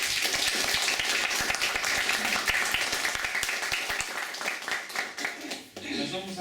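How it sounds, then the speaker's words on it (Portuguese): A small audience at a talk applauds with brisk, dense clapping that stays loud for several seconds before thinning out, and a voice speaks as it tails off. "Uma salva de palmas aqui."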